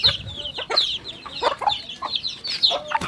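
Backyard chickens cluck and squawk close by in quick, rhythmic bursts of several calls, loud over faint farmyard background with no talking.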